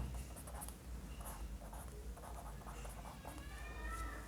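A pen or marker scratches across a board or page while writing out a continuous-time signal, giving soft, irregular strokes and taps over a low background hum, with no voice present.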